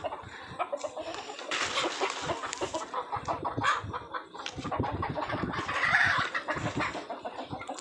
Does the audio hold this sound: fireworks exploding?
no